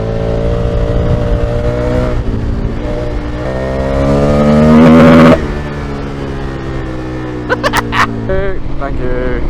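KTM motorcycle being ridden, its engine revving with rising and falling pitch, a loud rev burst midway and a sharp surge near the end, with someone talking over it.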